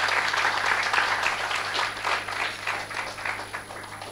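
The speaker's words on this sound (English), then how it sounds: "let's thank madam once again with a round," Sustained round of audience applause closing a lecture on nutrition, many hands clapping in a dense, even wash that stays steady across the whole stretch with a faint background hum.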